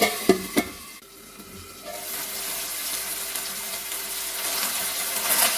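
Tomatoes and onions cook in a pan over a medium flame for a chickpea masala, giving a soft, steady sizzle after a few brief knocks and clinks of utensils at the start.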